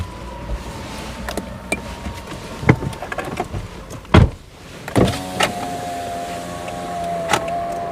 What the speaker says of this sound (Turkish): Camını aç biraz istersen.